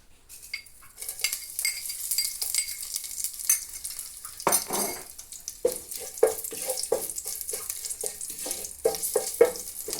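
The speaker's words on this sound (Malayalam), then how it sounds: "എണ്ണ ചൂടായിട്ടുണ്ട് ഇനി നമുക്ക് അതിനകത്തേക്ക് കുറച്ച് കറിവേപ്പില ഫസ്റ്റ് ഇട്ട് കൊടുക്കാം" Light clinks and scrapes, then a sudden loud sizzle as curry leaves hit hot oil, followed by a run of sharp crackling pops.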